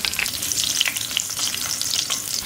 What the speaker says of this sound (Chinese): 找个砂锅，锅里倒点油，下入葱姜。